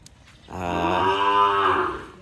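A Sahiwal cow on a farm gives one long, loud, drawn-out moo lasting well over a second, close by and alone after a faint start.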